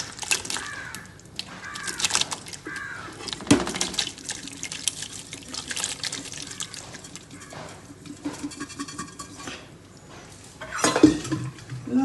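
Lemon pickle with vinegar and salt being stirred in a pan, spoon scraping and clinking against metal with wet sloshing, in irregular bursts.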